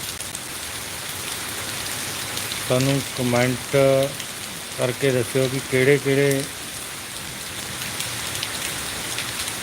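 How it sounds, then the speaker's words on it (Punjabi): Heavy rain pours steadily across a village market area in Bassi Pathana, Punjab, a dense even hiss throughout, with someone speaking over it midway. "ਬਹੁਤ ਭਾਰੀ ਮੀਂਹ ਪੈ ਰਿਹਾ ਜੀ"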